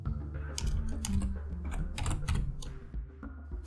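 Quick clattering keystrokes on a computer keyboard entering a command during an Arch Linux install, a close, steady run of taps with short pauses.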